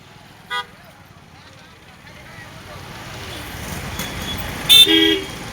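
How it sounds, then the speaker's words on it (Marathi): Market-day traffic jam on a village road, with engine and traffic rumble building steadily, a short horn toot early on and a louder, longer double horn blast near the end. "मांडवगण फराटा येथे पुन्हा वाहतूक कोंडी."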